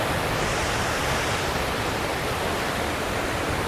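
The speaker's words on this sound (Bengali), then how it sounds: "আর সামনে জল দেখুন, জলের আওয়াজ শুনুন কি সুন্দর আওয়াজ দিচ্ছে" The Jhalong river flows as a steady, dense rush of water, loud and close, with a constant broadband roar and no pauses or voices.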